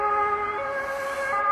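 A faint, steady emergency vehicle siren drifts in from far off in Morbach, Germany, holding a pitch then shifting lower, with soft outdoor background noise around it.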